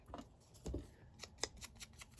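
Scissors snipping along the bottom edge of paper ephemera, a few crisp separate cuts spaced irregularly, close and fairly quiet with no talking.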